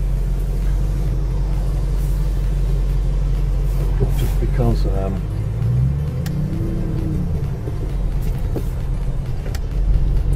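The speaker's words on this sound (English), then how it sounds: "The camera's picking up the sound of this car" Low, steady engine rumble from a Bentley Continental GT V8 S while driving, heard from inside the car with people talking over it.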